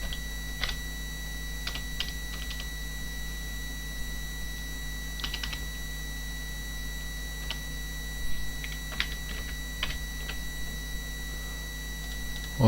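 Sparse, faint clicks of a computer keyboard come in short, scattered bursts over a steady electrical hum, with long pauses between keystrokes and no voices.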